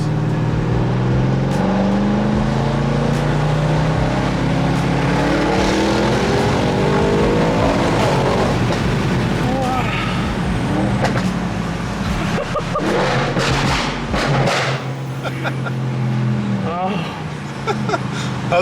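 An Audi RS6 with a stage 2 tune and Redstar exhaust revs hard, its loud engine rising and falling repeatedly over several seconds while people talk nearby.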